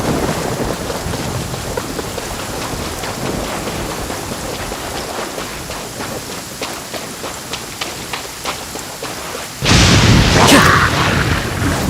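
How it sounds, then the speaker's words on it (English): Heavy rain pours steadily in the video game Genshin Impact, with scattered thunder cracks, and near the end a sudden louder burst of rain and thunder swells up close. "Taking a stroll in the middle of a downpour certainly rouses the spirit."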